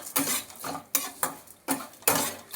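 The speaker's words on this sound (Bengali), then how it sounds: "এবার আমি এটাকে লাল লাল করে ভেজে নেব।" Crushed Maggi noodles fry in a pan until reddish, heard as four loud scraping strokes of a metal spoon against the pan over a faint sizzle.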